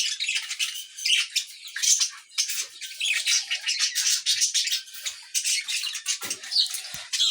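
Pet birds in a cage chirp and squawk constantly and close by, a dense, bright chatter of overlapping calls with no pause.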